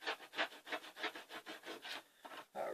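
Quilt fabric is cut down to size. A close, rhythmic rasping comes in even strokes about three per second, alone and without talk.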